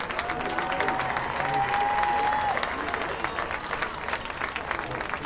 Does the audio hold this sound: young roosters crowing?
no